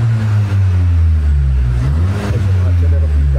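A cold Seat Leon petrol engine with a sport exhaust idles with a deep, loud rumble, then is revved up and back down to no more than 3000 rpm, close by.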